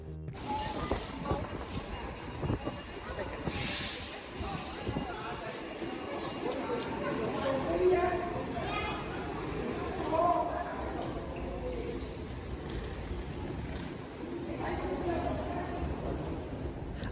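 A San Francisco Muni Central Subway train rumbles through an underground station in Chinatown, a steady rolling roar with brief squeals and bangs. A voice talks over the noise.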